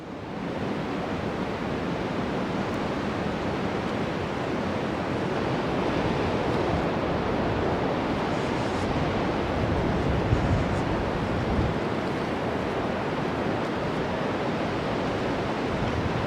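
River flowing beside a hiking trail at Old Stone Fort, Tennessee, a steady broadband rush of moving water heard continuously and fairly close, with no talking.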